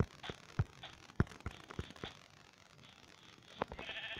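Sheep in Minecraft give several short, sharp bleats at irregular intervals, fairly close and clear over a quiet background, with no talking.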